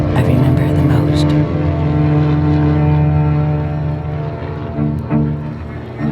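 An aircraft motor roars steadily during takeoff from Oakland, California in May 1937, loud and close throughout, a sustained droning engine with a slight swell and fade near the end.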